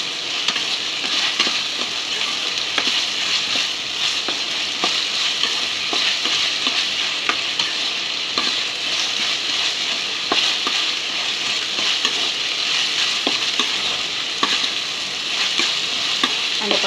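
Food frying in a pan with a continuous bright sizzle, punctuated by regular scraping and clicking strokes of a spoon stirring, steady and close with no voices.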